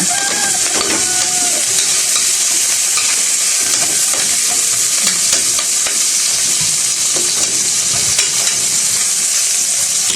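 Oil or food fries hard in a hot pan while pork adobo is being cooked, producing a loud, continuous sizzle with crackles and occasional pops throughout.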